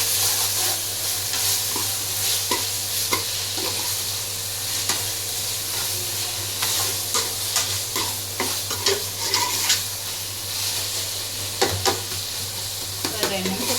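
Biryani masala with salt stirred in a pan over a high flame, with a steady loud sizzle of frying under repeated scraping strokes of a spoon against the pan, close up.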